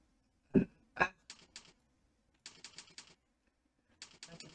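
Fingers type on a computer keyboard in short bursts of quick clicking keystrokes separated by pauses, close and crisp, after two louder thumps at the start.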